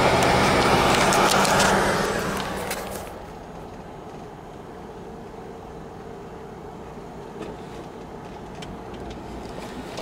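Car cruising along a scenic road: a loud rushing burst of road and wind noise for the first couple of seconds fades to a steady, muffled low engine-and-tire hum inside the cabin.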